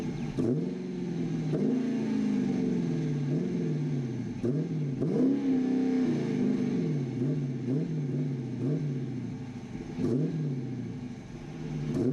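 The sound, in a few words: car engine revving while still warm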